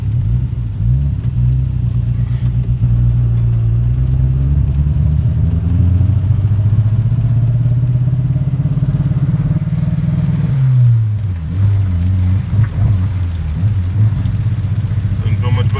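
Honda Civic with a turbo build driven on the road, its engine misfiring throughout: a loud, steady engine drone with uneven stumbling and clatter, rising and easing as the car accelerates and then lifts off.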